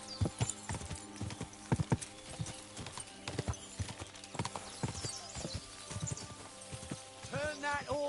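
Horse hooves clip-clop in the medieval video game Kingdom Come: Deliverance 2, irregular sharp hoofbeats under game music, with a whinny near the end and voices talking.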